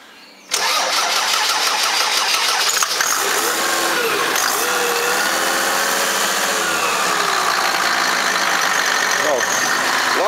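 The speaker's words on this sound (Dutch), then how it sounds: "Gijs, start dat ding eens. Dat moet je eens even horen" An engine starts abruptly and settles into a loud, steady running roar close by, with a voice speaking over it.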